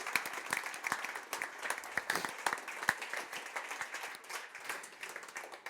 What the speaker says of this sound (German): auch für ihn großen Applaus.